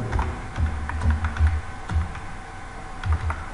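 Typing on a computer keyboard during a Python programming lesson, irregular clusters of soft clicking keystrokes close up, with brief gaps between bursts.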